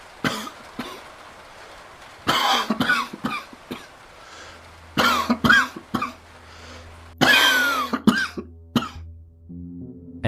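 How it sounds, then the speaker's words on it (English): A man coughs in a series of harsh, hacking bursts, clustered in fits with brief pauses between, loud and close, with a low hum entering partway through. "Then he started coughing."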